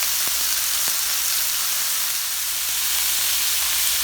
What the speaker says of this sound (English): So let that get a good hard sear